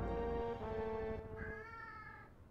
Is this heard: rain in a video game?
no